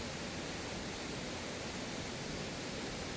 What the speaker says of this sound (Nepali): यहाँ पनि वाटरफल छ होइन।